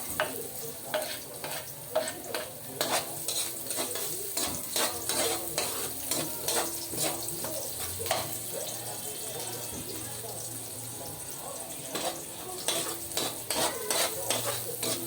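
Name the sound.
stirring onions sautéing in a pan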